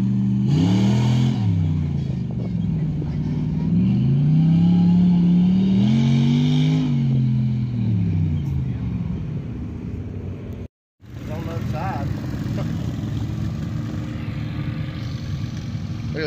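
Monster truck engine revving hard at a mud event, its pitch sweeping up and down through repeated throttle blips, loud and close, with a brief dropout before a steadier engine rumble and crowd noise continue.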